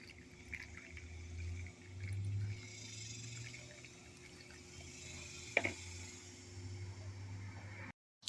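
Gentle water pouring and trickling onto the soil of a potted pineapple top, soft and close, with a small clink partway through before it stops abruptly.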